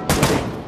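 A single loud, close gunshot from a headshot in the Pavlov shooter video game, a sharp broadband crack followed by a short decaying tail.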